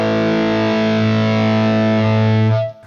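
Guitar played through a Marshall 1987x Plexi amplifier with master volume full and preamp gain at zero, giving a loud, sustained, buzzy chord that rings steadily for nearly three seconds before cutting off, with no talking.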